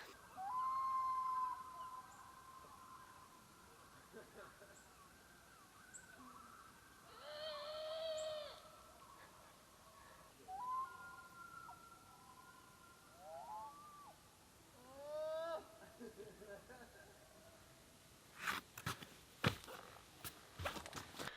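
Men at a lake campsite in Algonquin imitate loon calls, producing long, wavering, rising and falling wails that carry faintly across quiet water in separate bursts, followed by a few sharp knocks near the end.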